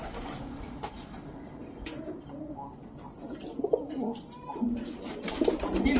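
Several pet pigeons coo in low, throaty repeated calls, fairly close, with light rustling and a few soft knocks around them.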